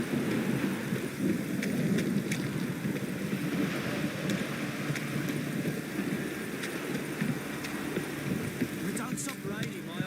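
Heavy rain and rolling thunder fill a storm scene in The Witcher 3, a dense, constant downpour with low rumbles and a few sharper crackles that stays loud throughout.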